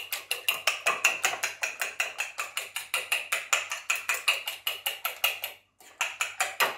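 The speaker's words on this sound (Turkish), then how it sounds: "Şimdi bunu güzelce arkadaşlar bir çatal yardımıyla çırpıyorum." Eggs whisked briskly with a fork in a bowl, a steady run of rapid, even ticking strokes close by, with a brief pause near the end before the beating resumes.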